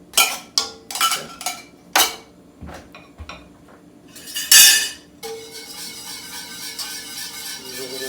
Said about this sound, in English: Use a little whisk here.